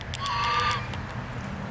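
A goose gives one drawn-out nasal honk up close, followed by a short stretch of quieter background noise.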